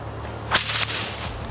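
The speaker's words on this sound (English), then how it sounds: "particularly the Florida cow whip, which was a tool for herding cattle" A single sharp crack of a Florida cow whip, the kind used for herding cattle through palmetto scrub, snaps out clearly and close against a steady low hum, followed by a faint second snap.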